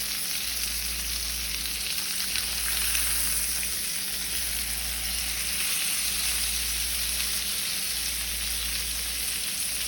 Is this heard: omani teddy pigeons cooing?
no